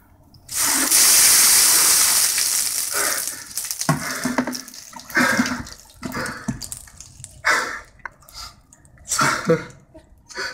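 A bucket of ice water is poured over a person's head for the ice bucket challenge, a loud splashing rush at the start followed by dripping, gasps and shaky breathing at close range.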